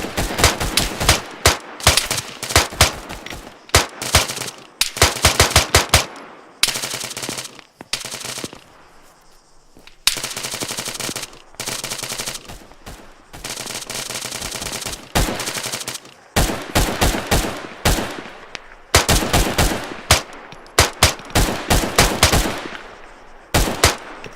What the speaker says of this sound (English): you're shooting above me